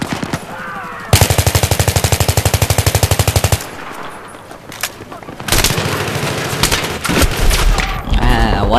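Battlefield 3 gunfire: a long run of rapid automatic bursts at close range, then a pause, then more heavy sustained firing with booming impacts, loud throughout.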